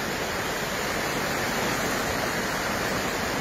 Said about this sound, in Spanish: Hoy, hasta ahorita está empezando a crecer este río.